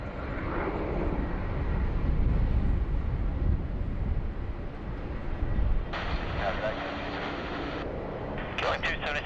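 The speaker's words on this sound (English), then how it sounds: "Vietnam, they're just about to roll and cleared for takeoff on runway 16 right" A Vietnam Airlines jet begins its takeoff roll on runway 16R at Sydney Airport, a broad distant engine roar building, heard under radio air traffic control chatter.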